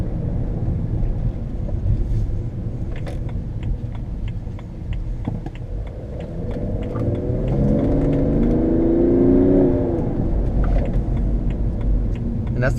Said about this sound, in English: And that's the turbos working